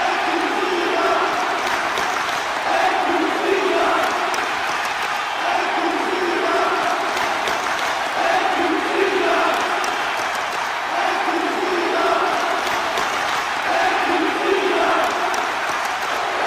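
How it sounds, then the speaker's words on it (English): A wrestling event crowd cheers and applauds in a steady, loud roar with rhythmic swells of chanting, filling the arena without a break. "Looks like Cena's celebrating with the crowd here"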